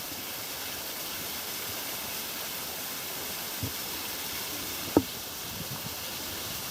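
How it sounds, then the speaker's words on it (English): A small waterfall gives a steady, even rush of falling water at moderate distance, continuous and unchanging, with a couple of faint brief knocks over the flow. "It's a little waterfall"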